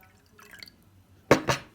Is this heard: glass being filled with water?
yes